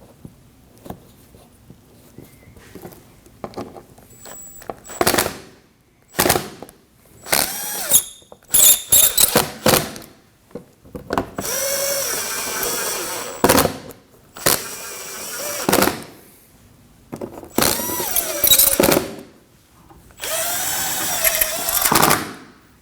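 Screws are driven into a Ford Edge front valance panel at the front bumper, heard as bursts of power-driver whirring and ratcheting clicks of varied length with quiet gaps between, close and fairly loud.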